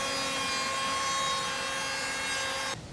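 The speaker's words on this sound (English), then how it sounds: "I will use a planer to fix this problem." Steady, loud whirring drone of a power planer cutting along a bowed wooden 2x8 board for a cedar balcony, running continuously before stopping abruptly near the end.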